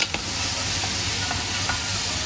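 Potatoes and tomatoes sautéing in a pan, with a steady frying sizzle and a few soft spatula scrapes as they are stirred, close and continuous with no talking.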